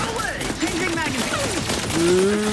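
Turret gunfire in the video game Outer Worlds 2 rattles in a rapid burst of shots, with chaotic effects and a rising tone toward the end, loud and close.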